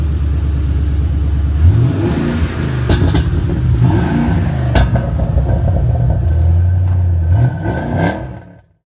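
A 2005 Ford Mustang GT V8 revs hard and steadily up close, its deep rumble rising and falling for about eight seconds before cutting off abruptly at the end.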